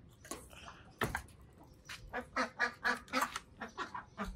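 Ducks at a zoo quack in a lively run of repeated calls, fairly close and clear, with no talking over them.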